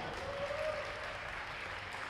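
Applause from the audience at an Italian boulder climbing championship final award ceremony in Forlì, a distant, fairly faint wash of clapping lasting a couple of seconds in a reverberant hall.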